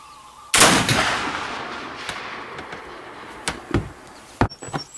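A single loud black powder shot from a Tennessee mountain rifle booms sharply and rolls into a long fading echo, followed by a few faint knocks and clicks.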